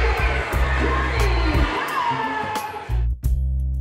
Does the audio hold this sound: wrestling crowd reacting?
yes